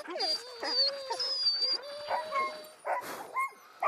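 Norwegian kennel sled dogs, also used for long-distance racing, whine, yip and whimper in quick overlapping bursts, close and fairly loud, with high excited cries and short gaps between the calls.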